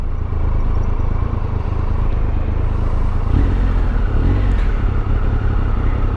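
A 2017 Triumph Tiger Explorer XCx adventure motorcycle engine drones steadily under way, a continuous low rumble with faint wind and mechanical clatter, rising slightly in the middle as revs shift.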